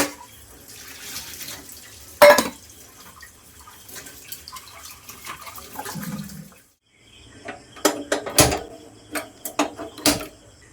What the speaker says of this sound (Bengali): ফ্রেশ হয়ে আগে আমি দু একটা বাসন ধুয়ে নিচ্ছি যেগুলো এখন আমার দরকার